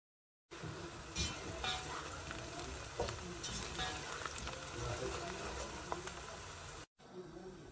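Kidney bean curry (lobia/rajma) simmering in a pot on a home stove, with a soft, steady bubbling hiss, a few sharper pops and clicks, and a brief break near the end.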